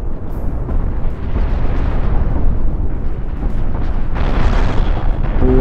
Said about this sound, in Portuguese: o canhãozão já deu um tiro ali